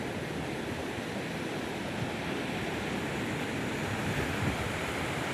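Ocean waves roll continuously at Vadarevu beach, a dense, steady wash of surf with some wind rumble, loud and unbroken with no voices.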